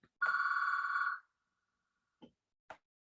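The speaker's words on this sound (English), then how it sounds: "you probably heard my stupid phone in the background there" A telephone rings once in a room, a single electronic ring lasting about a second, followed by a couple of faint short knocks and silence.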